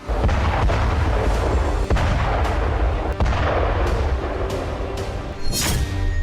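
An oil depot explosion in wartime Ukraine comes through as a dense, loud barrage of repeated booming blasts and cracks over a constant roaring rumble, with a sharp burst near the end.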